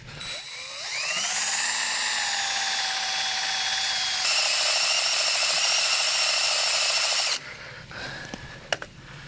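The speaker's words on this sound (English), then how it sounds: "Let's drill into this piece of iron and see how it drills." A drill bores into a piece of gray cast iron with a loud, steady high-pitched whine that shifts pitch partway through. It runs for about seven seconds, then stops, followed by a few small clinks.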